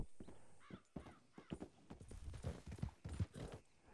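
Rapid hoof clip-clops from a galloping horse in the video game Red Dead Redemption 2, with a short whinny-like sound mixed in, fairly close and steady over the whole stretch.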